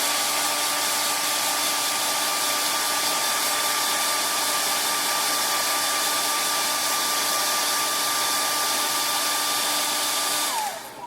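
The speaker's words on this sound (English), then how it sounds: "I'm just using a hair dryer." A hair dryer blows continuously with a steady, loud whooshing hum and a faint whine, then winds down as it switches off at the end.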